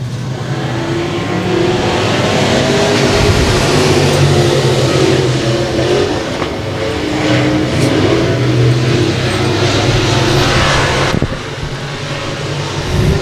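Dirt track race cars roar around Boyd Raceway in a heat race, engines loud, close and continuous as they rev through the turns.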